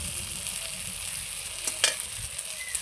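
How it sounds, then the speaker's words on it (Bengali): Spice paste frying in oil as the base for a fish curry, a steady close sizzle with a couple of sharp spatula scrapes partway through, no voices. "আমার মশলাটা খুব সুন্দর কষানো হয়ে গেছে।"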